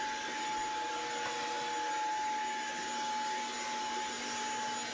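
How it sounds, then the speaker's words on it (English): A vacuum cleaner runs steadily while vacuuming a bathroom, a continuous even whine with a fixed motor tone, moderately loud and uninterrupted, with no talking. "Vacuuming up since I'm done with this bathroom."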